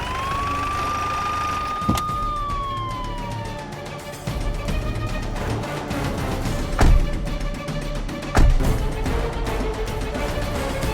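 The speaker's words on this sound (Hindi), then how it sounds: "पुलिस की गाड़ी है।" A police car siren wails loudly and continuously under a busy street scene, with a rising-and-falling tone early on and sharp bangs or thuds breaking through around the middle and near the end.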